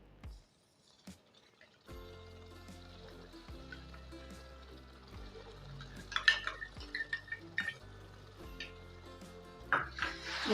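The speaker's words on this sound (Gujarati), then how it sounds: "એ જ મલાઈ લીધી છે આપણે ત્રણ ચમચી જેટલી મલાઈ છે આપણે એની અંદર નાખી દઈશું" A spoon stirs milk cream (malai) into a sukhdi mixture in a pan, making soft intermittent scrapes and clinks over quiet background music.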